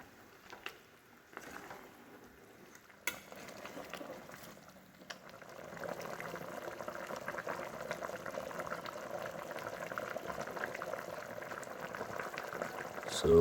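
Chicken garlic pepper gravy boils in a pot after water is added. A soft, steady bubbling simmer becomes fuller and livelier partway through, with light pops and sputters.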